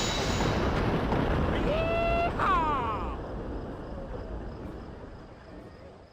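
A big explosion ambushing the Miller gang in the Western game GUN: a loud, sustained rumbling blast with debris noise and a brief whistling tone, slowly fading into a lower roar.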